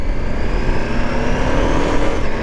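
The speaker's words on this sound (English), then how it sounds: "I'm just letting it change gear because it's an automatic gearbox" A KTM 1390 Super Adventure S Evo motorcycle with an automatic gearbox rides along under load, its engine a loud, steady, close roar as it shifts gears by itself.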